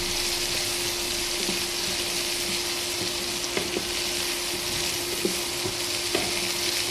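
Vegetables with salt and turmeric sizzle in a hot pan in a steady, close frying hiss, broken now and then by a few soft clicks and taps of stirring, with no talking.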